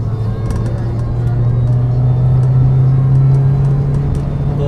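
A 2011 Nissan Grand Livina XV 1.5 with a manual gearbox pulls in third gear from about 3000 rpm, a steady engine drone rising slowly in pitch heard from inside the cabin, with road rumble underneath.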